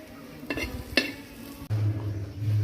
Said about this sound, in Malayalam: പച്ചമുളക് നെടുകെ കീറിക്കൊണ്ട് ഉരുളിയിലിട്ട് ഇളക്കിക്കൊണ്ടിരിക്കുക